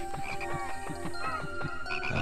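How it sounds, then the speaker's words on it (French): Frogs croaking in the game Pikmin 2, a rapid series of rhythmic croaks over a tonal musical backdrop, close and moderately loud. "On a des grenouilles."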